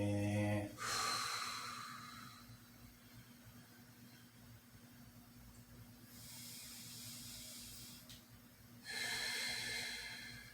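A deep, breathy exhale comes from a person holding a back stretch, a long airy hiss that swells, fades and then returns in two more slow breaths, close and alone without talk.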